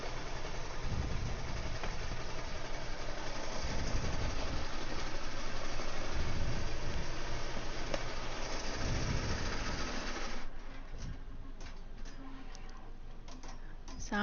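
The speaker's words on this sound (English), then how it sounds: "This is sewing beautifully." An embroidery machine stitches a floppy beach hat with a steady, fast mechanical whir and ticking that runs on for about ten seconds before dropping to softer intermittent clicks. No one talks.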